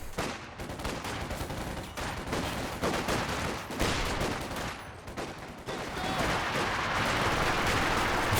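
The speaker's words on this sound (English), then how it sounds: "Infantry support gun now for Deliri0us. Oh, and it gets off to a good start." Infantry support gun firing during a 2v2 Company of Heroes 2 battle, part of a dense, loud, continuous wash of gunfire and explosions without pause.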